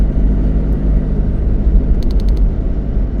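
A car drives along a quiet road toward the Dhangadhi gate at Corbett during the monsoon, giving a steady, close engine-and-tyre rumble that continues unbroken, with a few faint high chirps near the end.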